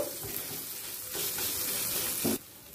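Potato and gourd curry stir-fried in a pan, a steady close sizzle and frying hiss that grows louder midway with brief stirring scrapes, no voices.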